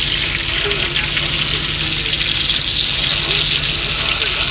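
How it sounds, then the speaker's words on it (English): Sausage fries in a pan inside a truck cab, a steady close sizzle and crackle running unbroken throughout, with a faint low hum beneath it. "Cooking some sausage."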